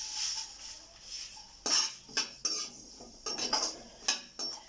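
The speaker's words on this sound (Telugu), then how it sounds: "ఇప్పుడు నువ్వులు వేసేస్తున్నానండి ఇందులోనే" Sesame seeds tipped into a pan while making drumstick leaf powder, giving a few light scattered clinks and rattles against the metal, close and fairly quiet, with no talking.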